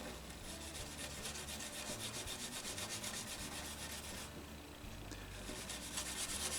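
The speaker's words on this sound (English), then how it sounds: "I've got the gray Scotch Brite pad." A gray Scotch-Brite pad rubs steadily over the shellac finish of a Jose Ramirez classical guitar, making a continuous close scratchy swishing with a brief pause near the end.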